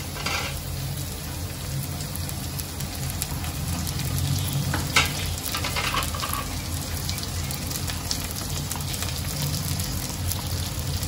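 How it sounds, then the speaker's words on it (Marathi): Chopped chilli and vegetables sauté together in hot oil for a Khandeshi shepu palak bhaji, a constant close crackling sizzle with occasional stirring scrapes, no talking. "या सर्वांना चांगलं मी एकत्र तेलामध्ये परतून घेते"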